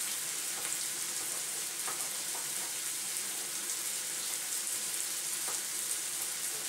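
Pork sizzling in a hot pan, a continuous bright crackle and spatter with occasional louder pops, steady and close with no talking.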